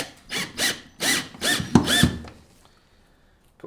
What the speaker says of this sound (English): proceed to screw the screws in one by one